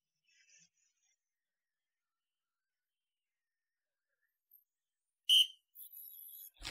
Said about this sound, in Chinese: 突然吹响哨子